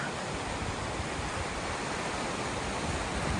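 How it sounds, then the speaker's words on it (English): A loud river in Denali National Park, Alaska, rushes with a steady, close broadband roar that never lets up, with no voices over it. "I hope you can hear me because it's a pretty loud river"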